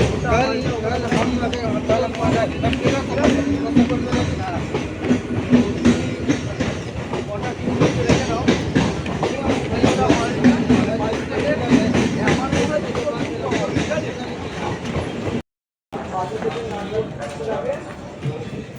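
A train rumbles and clatters steadily at Kalyani station, loud and close, with a brief silent gap near the end before the rolling noise resumes.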